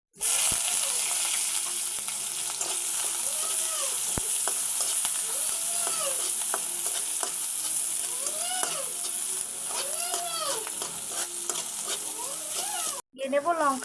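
Chopped onion and garlic fry in white oil in a kadai, sizzling steadily and loudly up close while a spatula stirs with repeated scraping sweeps, then a brief cut near the end.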